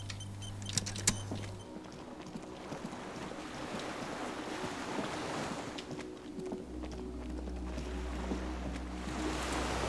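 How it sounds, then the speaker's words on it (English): Small skiff rocking on waves beside a dock in the video game Disco Elysium, a steady low wash of water and wind with soft creaks and brief knocks near the start, continuous and moderately quiet. "The skiff is swaying on the waves by the dock."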